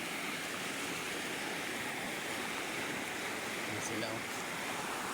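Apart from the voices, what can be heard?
rushing floodwater in a river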